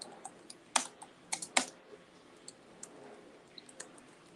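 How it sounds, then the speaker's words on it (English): Quick, light keystrokes on a computer keyboard, a few sharper clicks standing out among soft scattered taps, close and quiet with no talking. "So I'm doing some typing real quick."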